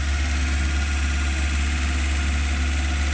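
A car engine idles smoothly after servicing, a continuous, even low hum with a faint vibration, steady and close throughout with no voices.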